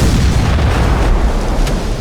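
Cannon fire from a Civil War naval battle in a retro game: a dense, continuous barrage of heavy booms and bursts overlapping with no break, loud and rumbling throughout.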